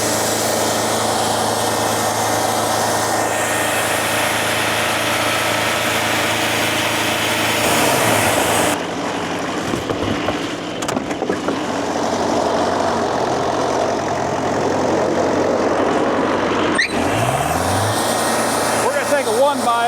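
A Wood-Mizer sawmill's engine drones loudly and steadily while sawing a hard, dead white oak log, dipping briefly midway before the heavy mechanical roar returns, with a short whining sweep near the end.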